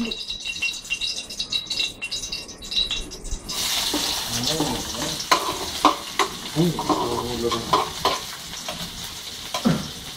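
Water hits hot oil and erupts into a loud, crackling sizzle that keeps spitting and popping, with a few clatters from the pan.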